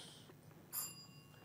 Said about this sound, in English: The bell is rang, and so you both forfeit the opportunity to get 10 points